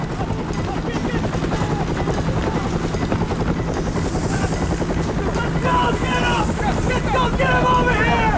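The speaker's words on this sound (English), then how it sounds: "The men rushed to choppers parked on the old camp's landing zone." Military helicopters run at a landing zone, their dense rotor thump and engine roar loud and constant throughout, with wind buffeting and voices shouting over the noise.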